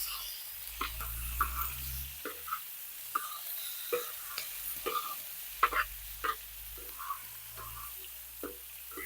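Vegetables and whole tomatoes fry in a pan with a soft continuous sizzle, while regular stirring knocks and scrapes at steady intervals, heard close and at moderate volume.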